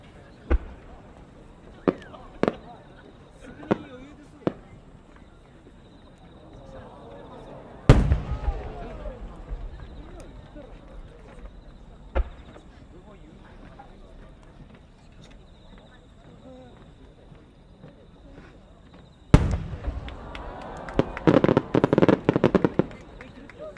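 Aerial fireworks shells, chrysanthemum and thousand-flower bursts at the Omagari fireworks competition, crack in a few sharp distant pops, then two heavy booms followed by a rapid crackling flurry as a commentator talks over them.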